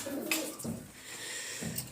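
Pigeons in a damp winter coop, some sitting on eggs, give soft, close coos in a few short bursts over a quiet background, with no one talking.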